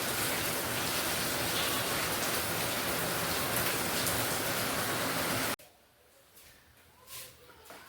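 Heavy rain pours down as a dense, steady hiss for several seconds, then cuts off abruptly to a much quieter background with a few faint sounds.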